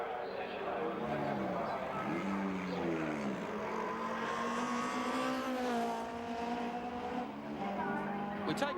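A 1988 Ford Sierra touring car racing at Bathurst's Mount Panorama, its engine note rising and falling through gear changes as it climbs the mountain, loud and continuous with a commentator talking over it.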